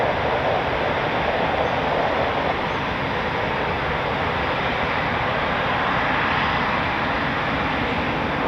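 A Eurofighter Typhoon FGR4 jet climbing steeply at an RAF station, producing a continuous, loud, heavy broadband roar that holds steady throughout.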